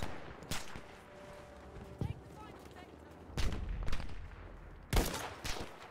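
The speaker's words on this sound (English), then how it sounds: "Someone shooting at me." Battlefield 5 gunfire on the Narvik map: scattered sharp shots and short bursts, some close and loud, others more distant, over a low background rumble.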